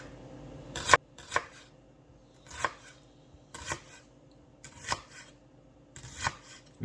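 A whole onion is chopped for chili with a knife on a cutting board, making about eight separate soft thuds at an irregular, unhurried pace, quiet and close with no talking.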